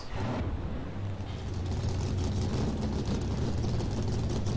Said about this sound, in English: see if we have any problems with my usual engine sounds.